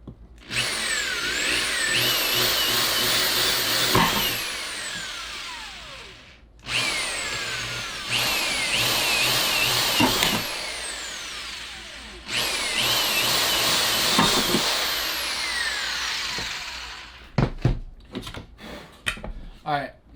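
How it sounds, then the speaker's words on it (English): Cordless power drill boring with a 5mm drill bit during a Land-Surf Ranger fin installation, three long whining runs with rising and falling motor pitch, followed by short clicks and handling knocks. "Yeah, 5mm drill bit."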